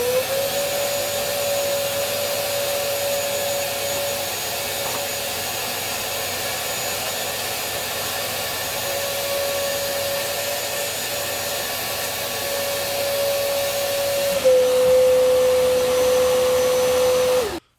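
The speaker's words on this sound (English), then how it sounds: "so I'm gonna have my vacuum" A wet vacuum cleaner sucks water out of an air conditioner drain line, running continuously with a steady whine and roar, its pitch shifting slightly near the end before it cuts off.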